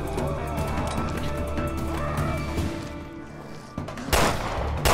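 Gunfire in the survival-horror game Resident Evil: Revelations 2: a few scattered shots under a steady game background, with a loud sharp burst near the end.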